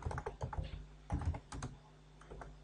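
Quiet, close typing on a computer keyboard: irregular bursts of key clicks, a few quick clusters followed by sparser taps, with no voices.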